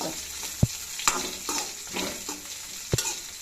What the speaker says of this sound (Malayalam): ഇപ്പോൾ നമ്മുടെ മുളക് മൂത്ത് വന്നിട്ടുണ്ട്